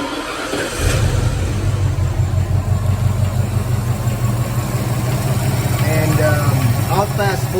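A 1983 Ford Mustang GT engine cranks and catches after about a second, then settles into a loud, steady running rumble close to the microphone, with someone speaking over it.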